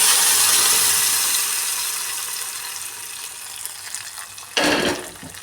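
Garlic fries in oil in a pan with a steady hiss that slowly fades, then cooked dal is tipped in with a sudden loud splash and sputter near the end.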